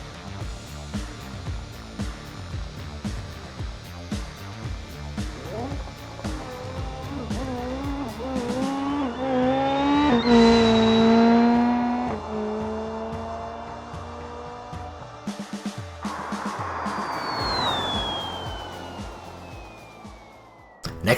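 A Sunburst drag car in BeamNG tears down the strip, its engine revving hard through rising gear pulls with shifts, swelling to a loud scream before fading and revving again, with no talk over it.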